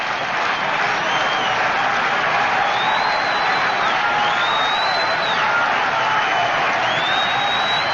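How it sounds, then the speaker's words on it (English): A baseball stadium crowd at a Yankees game roars and cheers continuously through a vintage radio broadcast, a dense, steady wash of distant voices with occasional whistles over the top. "And now listen to the crowd again with a 2-strike count on the hitter."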